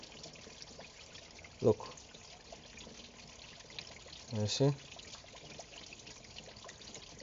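Water flushing out of a car heater core, with faint splashing and trickling throughout and a couple of louder gushes, while a person talks briefly close by.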